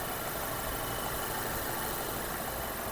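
A 2008 Volkswagen Passat engine idles steadily and evenly, a constant low hum with a broadband hiss, and no voices.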